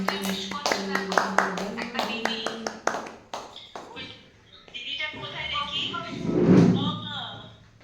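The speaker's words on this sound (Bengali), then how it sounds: "হাততালি দাও" At a small child's home birthday celebration, a few people clap in quick rhythmic bursts up close, mixed with talking and a voice, before the clapping fades into chatter.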